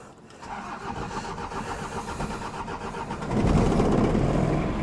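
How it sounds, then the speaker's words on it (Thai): A 1996 Toyota Mighty X GL diesel pickup engine cranks and catches on a cold day, then runs with a steady rough diesel clatter that swells louder near the end, close by and with no talking. "เครื่องก็ถือว่าสตาร์ทง่ายย้ำนะ"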